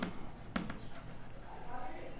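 Chalk or a marker scrapes and taps on a board in a few short strokes, close and moderately loud over room noise.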